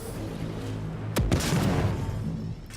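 A recycler grenade detonates in the video game Prey with a sudden sharp burst, followed by a swirling, rumbling pull that fades over about a second against steady game background noise.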